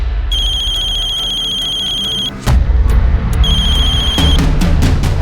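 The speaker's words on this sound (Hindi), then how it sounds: "उसका हमारे पास फोन आया।" A telephone rings in loud repeated electronic bursts, two ringing cycles separated by a short gap, with clattering sounds in between and no voices.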